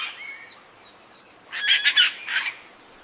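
A toucan calls in the Amazon rainforest, a short burst of three or four loud, harsh croaking notes over quiet forest ambience, with a faint thin bird call earlier.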